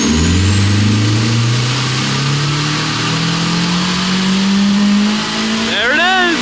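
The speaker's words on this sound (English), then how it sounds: "he's gonna pop VTEC for me. So we get to hear what it sounds like." A Nissan S15 with a VVL engine revs up close and loud, its pitch climbing steadily for several seconds as the variable valve lift engages. It then eases off, with an excited voice calling out at the end.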